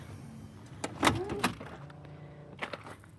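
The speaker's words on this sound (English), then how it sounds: "Maybe I'll put this up here and then close my van door." A camper van door swings shut with a couple of sharp thumps and clicks close by, followed by softer rattles and a faint motor hum.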